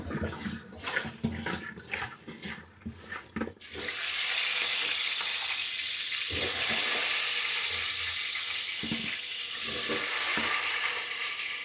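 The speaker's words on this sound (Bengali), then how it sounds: "আলু ভাজা ঠিক আছে।" Potatoes fry in a pan for kacchi biryani. A few irregular knocks and clatters open, then a loud, steady sizzle takes over, with occasional utensil clinks.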